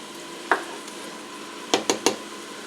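A spoon stirs beef tips in gravy in a pot, with one soft scrape followed a moment later by three quick clinks and scrapes against the pot over a quiet background.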